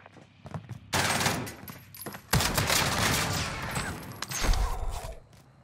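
Gallo SA12 shotgun blasts in Warzone, a few heavy booming shots separated by gaps, the first bursts loud and close and later ones punching through before the sound tails off.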